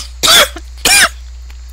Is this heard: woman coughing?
yes